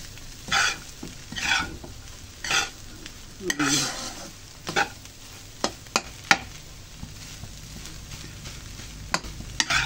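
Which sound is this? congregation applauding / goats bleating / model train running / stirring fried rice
stirring fried rice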